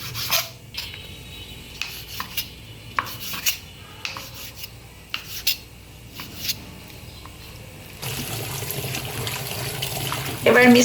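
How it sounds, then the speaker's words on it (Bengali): Pumpkin pieces being washed: wet rubbing and scraping in a bowl comes first, then a running tap gushes steadily under the handling. "এবার মিষ্টি কুমড়াগুলো ধুয়ে নিলাম।"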